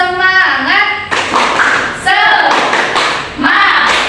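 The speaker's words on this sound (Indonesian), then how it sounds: "Yuk kita tepuk semangat ya." A teacher and primary school pupils perform a rhythmic clapping chant, with sung, chanted voices alternating with bursts of sharp, loud hand claps in a repeating pattern.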